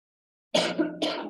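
Two short, sharp coughs close by, separated by a brief pause, with no other sound around them.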